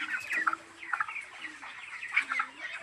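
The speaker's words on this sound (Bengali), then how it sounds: "দেখেন আমার মুরগি" Chickens clucking on a poultry farm, several soft, irregular clucks close by over a quiet background.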